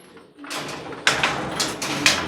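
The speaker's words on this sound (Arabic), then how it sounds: "خلينا نسكر الباب" A door pulled shut on a rooftop pigeon loft, with two or three sharp bangs and rattles over a steady background hum, fairly close.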